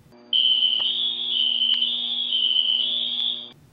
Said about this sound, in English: This is a fire alarm. When a fire is detected, these units will sound the alarm telling you to evacuate.